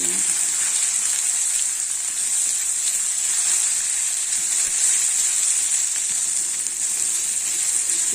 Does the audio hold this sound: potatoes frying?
yes